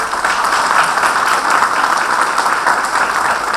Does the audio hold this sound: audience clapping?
yes